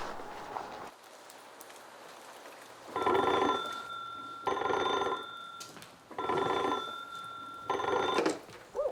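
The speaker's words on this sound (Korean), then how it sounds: "얼마 후 대전 형무소로 긴급 전화가 걸려온다." An old-style telephone rings at Daejeon prison: four loud, close bursts of an electric bell, each lasting about a second, separated by short pauses over a quiet background.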